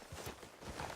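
Horse hooves clip-clop on the ground in Red Dead Redemption 2, a short run of steady, fairly close steps heard alone.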